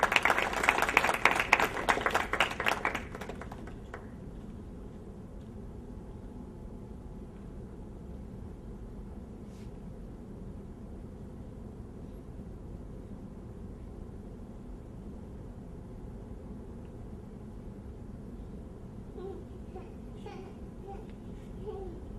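A seated audience gives a lively round of clapping for about three seconds. Then it stops abruptly, leaving a quiet hall with faint murmurs and room hiss.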